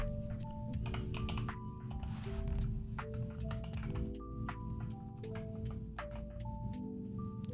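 Rapid clicking of keys on a computer keyboard, quiet and close, in an uneven continuous stream of taps over a low background hum.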